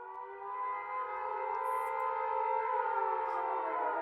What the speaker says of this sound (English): The shrill and abrupt sound of a defense alarm pierces the quiet night of Frankfurt.